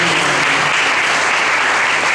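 Loud, close applause from an audience at a Devi Bhagavat katha gathering honours the organisers. The dense clapping is unbroken for about two seconds, with no speech over it.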